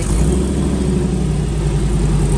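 A car with an LS3 V8 engine rumbling as it pulls away from a Southern California car show, a loud, steady, deep engine drone close by, with no talking.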